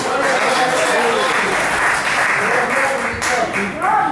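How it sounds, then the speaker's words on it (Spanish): Church congregation applauding: dense, sustained clapping from many people filling the room, steady and loud throughout with a slight swell near the end. "Den un aplauso al Señor"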